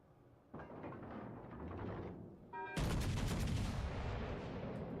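Warship guns fire in World of Warships Legends: one heavy boom opens into a rumbling roll, then a second, louder salvo crashes in and keeps roaring to the end.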